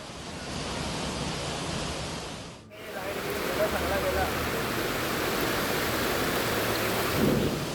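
Heavy downpour in Uran, a dense roaring wash of rain with low rumbles, steady and loud apart from a brief dip early on.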